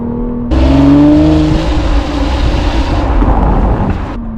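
A car engine in sport mode revs up sharply, a loud close roar that climbs in pitch and holds a strained, rising drone for a few seconds before cutting off.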